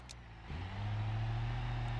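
A Moonhawk car engine in BeamNG.drive, used in a cop car battle, hums steadily and swells slightly as it settles into a low, continuous drone with no talking over it.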